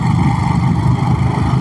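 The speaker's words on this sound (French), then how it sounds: "le légendaire bruit du moteur de Ducati" A Ducati Monster SP 950 motorcycle engine rumbles steadily and close, a deep low throb with no voices, holding constant for the whole moment.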